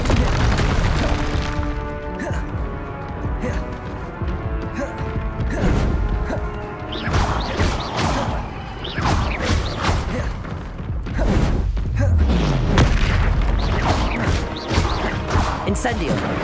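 Spellcasting in the Hogwarts Legacy video game, including the Incendio fire spell, bursts out as repeated loud whooshing crashes and booming impacts over layered game music, with a voice calling spell names throughout.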